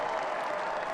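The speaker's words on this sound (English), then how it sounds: "you can hear the applause" Crowd applause at a 2022 NWSL women's football match between Portland Thorns and Houston Dash, as Rocky Rodriguez is substituted off for Sophia Smith; a dense, steady wash of clapping fills the whole second without a break.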